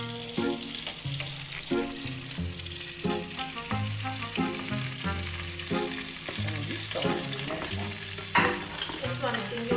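Pork chops sizzle and hiss in butter in a pan while being stirred, a steady close frying crackle that runs throughout beneath a layer of melodic tones.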